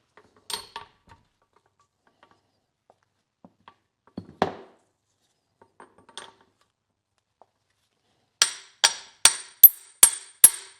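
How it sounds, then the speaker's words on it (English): Hammer tapping a bearing into place on a workbench during a T90 transmission rebuild: a few scattered light metallic taps, then five sharp, evenly spaced strikes close up near the end. "Now I'll tap the bearing in place."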